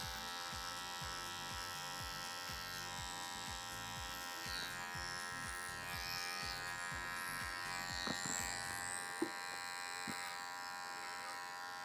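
Electric hair trimmers buzz steadily and close up while cutting curly hair in a barbershop, a continuous motor whine with rhythmic pulsing strokes as the blades pass through the hair, with a few small clicks near the end.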